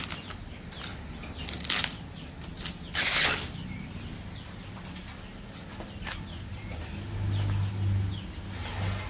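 Chickens being fed cut corn outdoors: wings flap in short bursts, with soft cooing and low farmyard rustling throughout.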